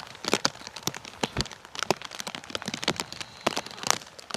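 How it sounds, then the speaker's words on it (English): Rain falling at Bristol Airport, a dense patter of drops striking nearby surfaces with irregular louder hits, steady and close throughout with no talking. "There we go, rain's coming in."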